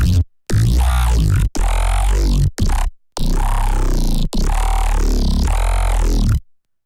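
Synthesizer tone with its morph EQ switched off, loud bursts of buzzy, shifting pitch in several separate phrases with short gaps between them, ending in silence.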